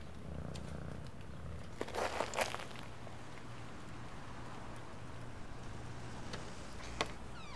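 A cat purrs softly and steadily up close in a quiet indoor flat at night, a low continuous rumble with a few small crinkling and ticking noises over it.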